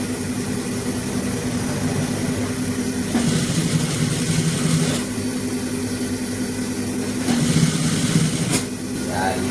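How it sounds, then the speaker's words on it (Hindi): A sewing machine stitches cotton fabric for a simple men's kurta, giving a steady mechanical hum. It rises into two louder stitching runs of a second or two each. Voices can be heard faintly in the background. "हौले हौले सिलाई को लगा लेंगे"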